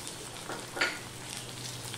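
Spice paste of ground coriander, cumin, turmeric and chilli frying in a pan, a steady soft sizzle with a brief louder hiss of stirring or added water near the middle, no voices.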